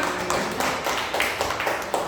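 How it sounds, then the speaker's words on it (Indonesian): A small group claps for the winner of a classroom activity in a school setting, producing a loose, uneven patter of handclaps at moderate volume without talk. "Oke, Mbak Marta, inilah pemenangnya, kita beri tepuk tangan"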